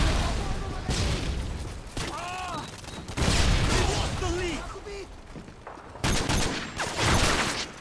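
Bursts of gunfire from Modern Warfare 2 (2009) team deathmatch on the Skid Row map, loud repeated volleys separated by short gaps, mixed with game effects and someone talking over the shooting.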